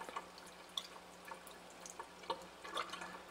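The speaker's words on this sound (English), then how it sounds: "We'll rinse the test tube out." Water from a water ionizer set to alkaline running into and rinsing out a test tube, giving soft irregular drips and splashes against a faint steady trickle, close and quiet.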